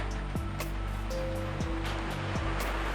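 Constant rushing of a waterfall by an indigenous settlement, a broad steady roar of falling water with no voices.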